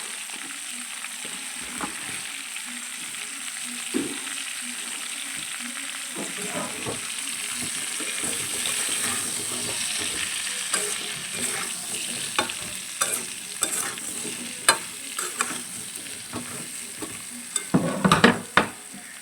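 Pointed gourd seasoned with salt and turmeric sizzles steadily in a hot pan, with stirring scrapes and occasional sharper clatters of the spatula near the end, no voices.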